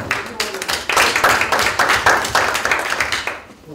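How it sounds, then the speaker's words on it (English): Seminar audience applauding at the close of a research talk, a dense, steady wash of many hands clapping at close range for several seconds before it tapers off. "Can we give a big round of applause?"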